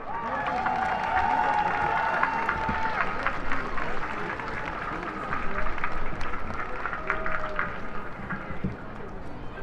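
A crowd applauds players after a Galway junior hurling final, sustained clapping with some cheering at middle distance, under a speaker's voice on a public address.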